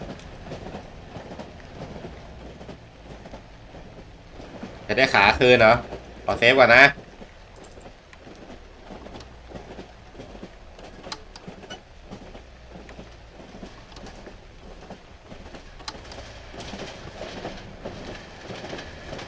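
In the horror video game Cry of Fear, a train clatters steadily along its rails while someone talks over it almost nonstop, with a couple of loud, sharp bursts partway through.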